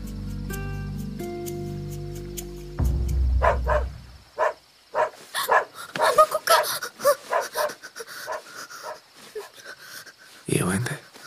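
A dog barks and whimpers in a tense night scene beside a tent in a Telugu action thriller, short yelps and whines coming in bursts after a musical opening, with voices around.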